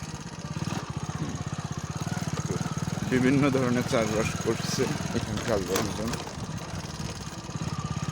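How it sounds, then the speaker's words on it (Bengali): Motorbike riding along a village dirt road in Bagerhat, Bangladesh, with a steady close engine drone and pulsing throb throughout while someone talks over it. "আমি বাইকের ওপরে এক হাত দিয়ে বাইক চালাচ্ছি আর এক হাত দিয়ে ভিডিও করতেছি"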